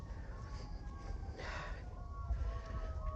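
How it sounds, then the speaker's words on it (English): Faint sirens wail in the distance, their tones slowly rising and falling over a low background rumble. "Hear the sirens."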